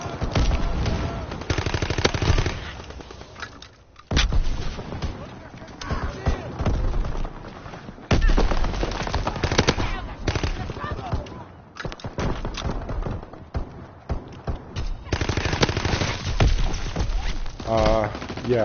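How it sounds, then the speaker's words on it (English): Game gunfire from a weapon in Call of Duty WW2 comes as repeated bursts of shots spread across a long stretch, mixed with game sound and a voice talking over it. "this gun is easy to shoot"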